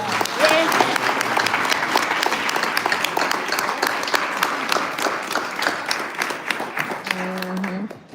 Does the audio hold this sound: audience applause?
yes